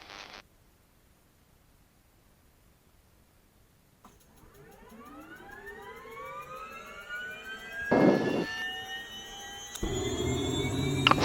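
An R66 helicopter turbine engine starts up, its whine sweeping steadily upward in pitch after a quiet pause, and it grows louder as the rotor blades begin turning. Brief bursts of broadband noise cut in near the end.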